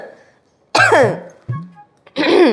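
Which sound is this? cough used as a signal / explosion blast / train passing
cough used as a signal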